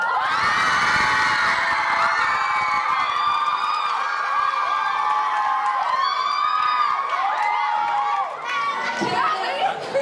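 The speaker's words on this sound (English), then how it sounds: "Can I get a raise of hands and shouts for Team Penland?" Crowd of school children shouting and cheering for a team at a middle school drama event, loud, sustained and excited, with screams and whoops throughout.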